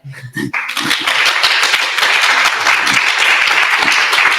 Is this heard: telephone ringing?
no